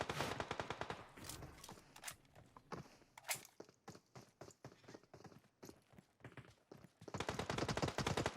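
PUBG Mobile gunfire on the Erangel map: rapid automatic bursts of shots, dense and loud at the start, then sparser single cracks and short volleys, and a sustained close burst at the end, with no talk over it.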